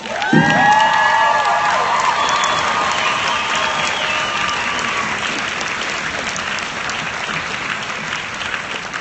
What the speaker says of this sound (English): you should give her a round of applause.